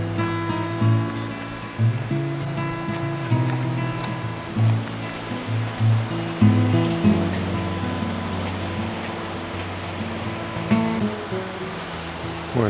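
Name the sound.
river flowing under a bridge near Bariloche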